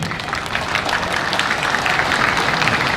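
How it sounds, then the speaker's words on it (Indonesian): A crowd applauds steadily for a few seconds, a dense wash of clapping with no break, at the opening ceremony of a village sports and arts festival in Batubulan, Gianyar, Bali. "Tepuk tangan untuk beliau-beliau"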